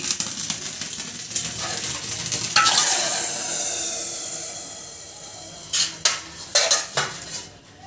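Spices crackle and hiss in hot oil while tempering for a yogurt and bottle gourd raita, a steady broadband sizzle punctuated by a few sharp clinks of a utensil against the pan near the end.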